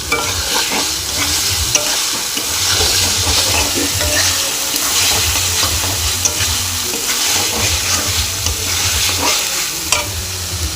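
Spices and salt are sautéed and stirred in a pan for a vegetarian soybean dish, with a loud, close sizzle and repeated spatula scraping in a steady rhythm that continues throughout.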